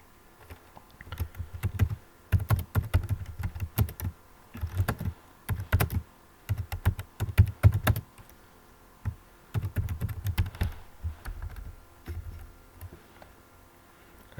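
Typing on a computer keyboard in MS Word, with bursts of quick, close key clicks separated by short pauses and no voices.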